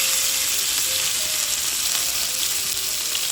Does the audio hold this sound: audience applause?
no